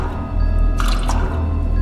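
A watering can pouring water onto a plant in a video game, a brief splashy trickle over a steady low background hum, close and fairly loud, with no talking.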